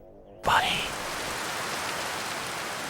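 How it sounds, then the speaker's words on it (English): Heavy anime rain from Gurren Lagann starts abruptly with a loud splash, then settles into a steady, dense downpour hitting the ground. It continues alone with no talking. "Just the heavy sound of water hitting the floor is good enough"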